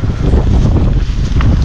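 A Kawasaki 12 horsepower engine runs steadily on a farm, a loud continuous rough drone heard close up with wind buffeting the microphone.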